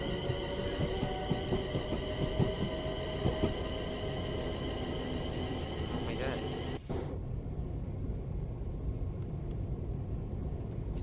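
A Class 350 Desiro electric multiple unit in Train Sim World 5 runs out of Milton Keynes over points on the West Coast Main Line, a steady loud rolling rumble with whining tones and a short clunk partway through, with a voice talking over it.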